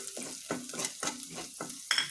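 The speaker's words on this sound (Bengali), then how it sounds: "এখন আমি ভালোভাবে ভেজে নিচ্ছি।" Vegetables or food frying in a home kitchen pan next to a window, with a steady close sizzle broken by repeated stirring scrapes, several regular strokes across about two seconds, and no voice.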